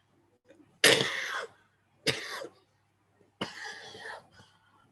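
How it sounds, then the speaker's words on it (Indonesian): Three separate coughs, near and fairly loud, with short pauses between them in an otherwise quiet room during a Sunday church service. "Batuk sedikit"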